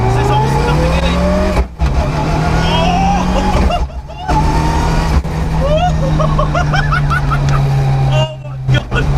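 A Mitsubishi Evo 6 rally car with a sequential gearbox and anti-lag drives hard, its engine droning loudly from inside with sharp cuts at gear changes, while excited voices and whoops sound over it.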